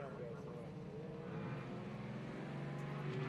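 A Porsche race car idles and revs with a steady engine drone at the start line of a historic grassroots sprint meeting in Australia, a commentator talking over it throughout.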